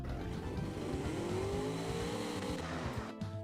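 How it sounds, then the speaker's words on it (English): An LMH prototype race car engine of roughly 785 horsepower revs in a car design video game, a loud sustained engine roar with a rising whine that holds steady and then cuts off sharply near the end. "That's a nice sounding engine."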